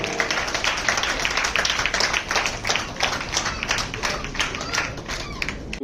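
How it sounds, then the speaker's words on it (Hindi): Sustained applause from an audience at a ceremony honouring 25 daughters on Daughters' Day, a dense steady patter of many hands clapping throughout, fairly close, with crowd noise mixed in. "स्नेहा जैन जी के लिए एक बार जोरदार तालियां हो जाए।"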